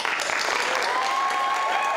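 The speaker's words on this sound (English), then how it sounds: "Let's all give a final round of applause" At a commencement ceremony, the audience applauds as graduates, speakers and the stage party leave the stage, a short, even burst of moderately distant clapping.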